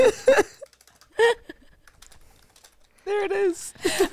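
Someone types on a computer keyboard, with quiet, rapid clicks scattered between bursts of nearby talking.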